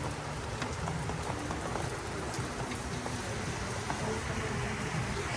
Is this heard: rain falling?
yes